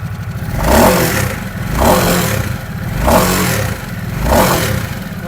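A 2023 Harley-Davidson Nightster 975 motorcycle engine revs up and settles back four times in a steady rhythm, close and loud, with a throaty idle between the throttle blips.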